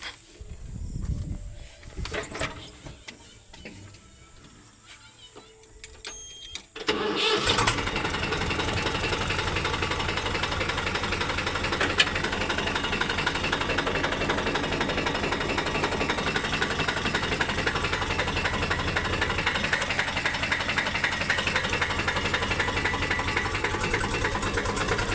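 A tractor engine turns over after several quiet seconds, then settles into a steady, loud, rhythmic diesel chug with a knocking pulse that continues unbroken to the end.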